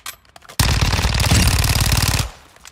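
Kriss Vector submachine gun in Modern Warfare II fires one long, loud, rapid full-auto burst of densely spaced shots lasting under two seconds, starting abruptly and tailing off, with no talk over it.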